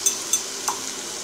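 Ground spices for a pomfret fish curry sauté in a pan with a steady, close sizzle, broken by a few light clinks of a stirring utensil.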